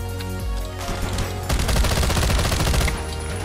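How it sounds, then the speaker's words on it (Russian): FAMAS assault rifle from a Modern Warfare 2019 weapon mod in Garry's Mod, a few separate shots followed by a rapid automatic burst, loud and close, with no talk. "Теперь ФАМАСы."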